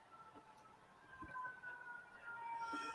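A faint, distant siren wails with thin gliding tones, rising slightly toward the end beneath quiet indoor background noise.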